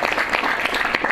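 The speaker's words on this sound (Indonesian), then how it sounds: "Beri tepuk tangan dulu dong." A church congregation claps briefly for a newly ordained pastor, a close, dense burst of hand claps with a few sharper accents, no voices on top.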